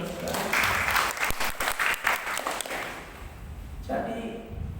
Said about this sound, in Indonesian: Beri tepuk tangan dong, saudara